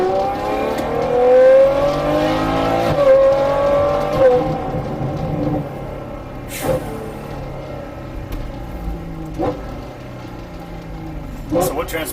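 A Ferrari 812 Superfast engine revs and climbs through its range, rising in pitch, then settles into a lower rumble with occasional bursts, under some talking.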